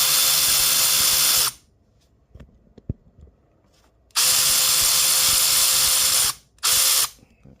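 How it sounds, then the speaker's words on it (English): Power grinder loudly cutting down a 10mm socket to clear a rail bolt on a 2008 RZR 800, in three sustained bursts separated by a quiet gap with small metallic clinks and taps. "I gotta grind down my 10mm here"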